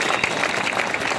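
A short burst of applause from the audience at a Hindi poetry gathering (kavi sammelan) at a government senior secondary school in Sanchore, dense clapping at moderate volume throughout the brief moment.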